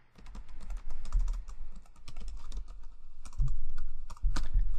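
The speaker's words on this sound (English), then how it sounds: "Always type the worst when someone's looking." Rapid, uneven typing on a computer keyboard, close and crisp, with bursts of clicking keys and brief pauses between runs.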